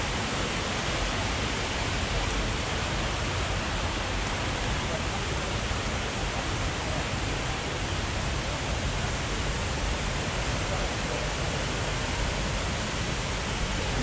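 The Ranchan waterfall in Sarawak, Malaysia pours in a steady, dense broadband rush, constant and fairly close, without pause for the whole stretch.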